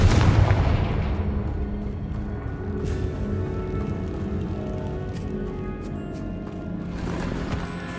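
Confringo spell explosion in the Hogwarts Legacy video game, a loud booming blast at the start that fades into a rumbling, crackling tail with scattered sharp pops and a second swell near the end.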